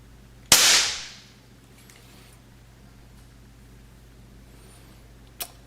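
A single sharp report from an SPA S400 .177 pellet pistol, loud and close, with a quick decaying ring, followed seconds later by a faint click; no talking.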